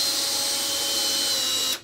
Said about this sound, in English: So what we do now is we fix this to the stud work. These are what we call dry line screws.